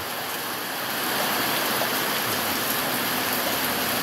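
Rain pours steadily at El Limón in August, a dense, even hiss of falling water close at hand that thickens slightly after the first second and holds constant with no voices.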